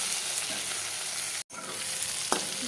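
Eggplant frying in a pan gives a steady bright sizzle, broken once by a short silent gap and by a clatter of stirring near the end; close and fairly loud, with no talking.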